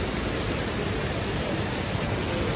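Heavy monsoon-style rain pours steadily outside a bank, a dense, continuous broadband hiss that stays loud and unchanging throughout with no voices.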